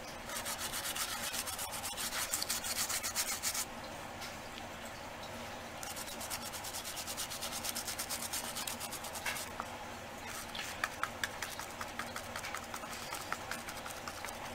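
A brush scrubs gesso onto a textured chipboard crown with repeated close, rasping back-and-forth strokes that keep a rough, steady rhythm throughout with brief pauses.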